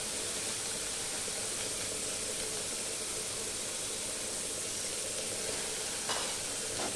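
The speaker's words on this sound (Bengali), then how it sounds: "চালটাকেও আমি একটু নুন হলুদ দিয়ে ভেজে নেব" Rice with salt and turmeric fries in a pan with a steady, dense sizzle that stays even and close throughout, with a faint clink near the end and no talk.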